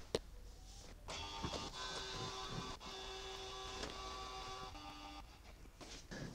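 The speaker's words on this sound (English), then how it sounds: "The printer took one by one each pages without you needed to touching anything." A Canon Pixma TR8620a inkjet printer feeds and prints pages on its own, giving a steady mechanical whirr with a tonal motor hum, soft clicks and shifting pitch as sheets move through, fairly close and with no talking.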